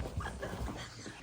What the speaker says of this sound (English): He's barking from underneath multiple blankets.